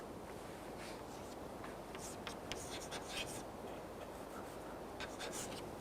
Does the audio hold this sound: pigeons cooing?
no